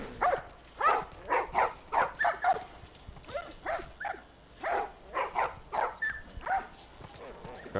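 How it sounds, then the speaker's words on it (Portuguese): A pack of dogs bark repeatedly in The Last of Us video game, with steady, rhythmic bursts of barking that run through the whole stretch at fairly close range. "Cachorrada latindo um monte."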